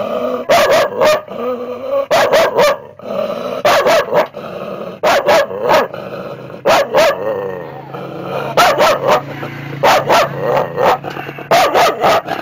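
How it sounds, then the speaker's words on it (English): A household dog barks in loud, repeated bursts of a few barks each, close by, with pauses between groups and brief talk in the background. "that's our main dog."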